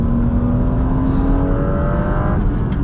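A car accelerating hard on a canyon road after downshifting into second gear, a loud steady engine drone with rising pitch, close and alone with wind noise.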